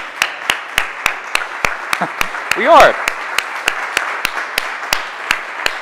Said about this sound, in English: we can clap it up for the youth